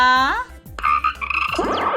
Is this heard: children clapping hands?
no